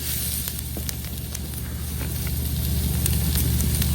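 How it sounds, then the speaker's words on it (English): Peppers sizzle in avocado oil on a hot pan, a steady close crackling hiss with faint pops and a low hum beneath, no voices. "put a little bit of avocado oil on here. Spread that around. Throw our peppers on."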